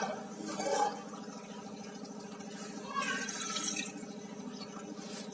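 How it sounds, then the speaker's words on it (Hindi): Water runs and drips as paneer is rinsed in a strainer, a steady splashing trickle with brief louder gushes, close by and without talk. "और इसे थोड़े से पानी से धो देंगे"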